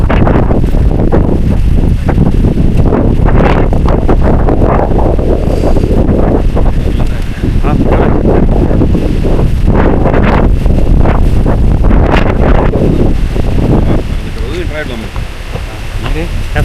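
Strong wind on the Agasthyarkoodam trek buffets the microphone in loud, continuous roaring gusts, easing slightly near the end, with voices faintly under it.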